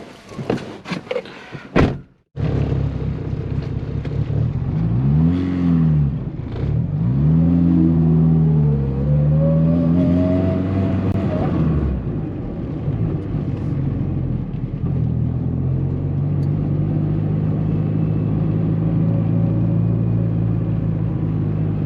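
An old car with recent repairs, its brakes untested, pulls out after a door thunk, the engine revving up and down in several strong close surges before settling into a steady rumble as it drives off, no talk.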